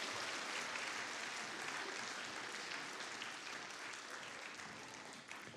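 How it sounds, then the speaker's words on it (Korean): A congregation at a Sunday church service gives warm, sustained applause, dense clapping from many people filling the room evenly and tapering slightly at the end. "뜨거운 박수로 격려해 주세요"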